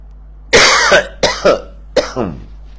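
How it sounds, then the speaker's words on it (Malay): Three bursts of harsh coughing, one long hacking cough followed by two pairs of shorter ones, close and loud against a low steady hum. "Saudara tengok saya batuk, nak buat macam mana?"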